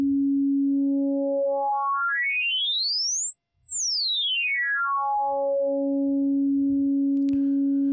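Access Virus synthesizer playing a sine wavetable while the formant shift sweeps the pitch smoothly up to a high peak and back down, a clean gliding tone held alone.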